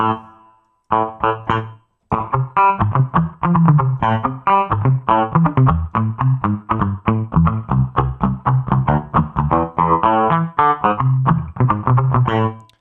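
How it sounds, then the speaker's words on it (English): A processed, distorted low-tone reverb plays in choppy, abruptly gated bursts with sharp cutoffs, loud and dense throughout, in a hardcore production. "So you get low tone reverb. And then you have its gate."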